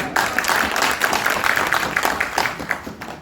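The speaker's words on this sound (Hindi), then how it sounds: "एक बार अच्छे से ताली बजाओ।" Audience applause rolls through a crowd at a shayari poetry event in Gonda, a dense, steady wash of many hands clapping that holds evenly for a few seconds.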